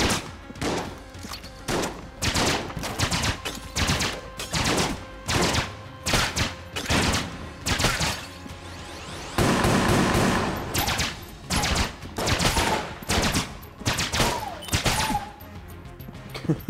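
Gunfire in the video game Enter the Gungeon, dense repeated shots in steady rhythmic volleys with thumps, loud and continuous across the clip, a heavier sustained barrage in the middle.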